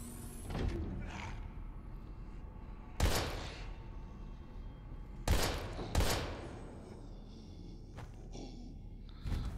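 Gunshots fired at zombies in the survival horror game Daymare 1998, a handful of sharp loud bangs spaced a few seconds apart over a quiet ambient background.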